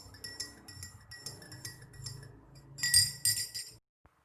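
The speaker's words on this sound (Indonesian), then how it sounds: "Lalu kita aduk kembali sampai homogen." A liquid solution is stirred in glassware until homogeneous, giving a run of light glassy clinks and taps that grow louder toward the end before stopping.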